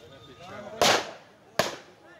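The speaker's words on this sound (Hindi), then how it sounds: "तो पटाखे फटने की आवाज भी इन तस्वीरों में आप सुन सकते हैं।" Firecrackers burst at a burning fireworks factory in Shamli, two sharp cracks about a second apart over a low background murmur.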